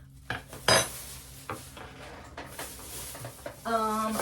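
A cheap thrifted metal spoon is handled, giving a few sharp clinks and knocks against other items; a faint voice speaks lightly in the background.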